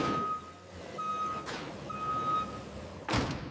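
A delivery truck backing up, its reversing alarm giving three steady high beeps at even intervals, with engine hum underneath and a couple of sharp door-like thuds in between.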